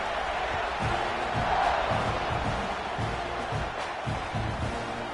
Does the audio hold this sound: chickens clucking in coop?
no